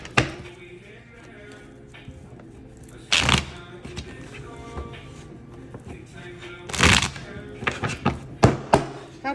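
Tarot cards being shuffled by hand, two loud bursts of riffling separated by a quieter stretch, followed by several sharp taps as the deck is squared, with someone talking softly in between.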